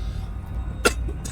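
A person gives a single sharp cough close to the mic, followed by a fainter second burst, against a low background hum.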